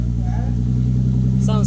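Infiniti Q50 fitted with a Remark axleback exhaust rumbles steadily and deeply throughout at close range, with a voice heard briefly over the low exhaust drone.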